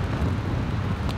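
Strong wind buffeting a microphone outdoors at a campsite, a dense, continuous low rumble that stays loud and steady throughout, with no voices.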